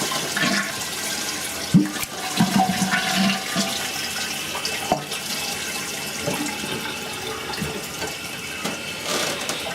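A toilet with a newly repaired Fluidmaster fill valve flushes and then refills, a steady rushing, hissing flow of water for the whole stretch with a few small knocks and gurgles and no speech.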